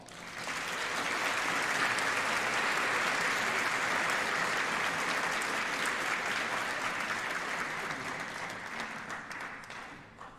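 A convocation audience breaks into sustained applause, a dense, even clatter of many hands that holds steady for several seconds, then thins and fades out at the end.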